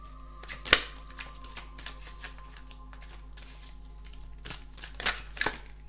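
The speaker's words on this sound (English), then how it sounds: "And I'm not that bad at shuffling" Tarot deck being shuffled by hand, a close, crisp run of riffling card slaps with a sharp burst near the start and softer flutters later, under a steady low hum.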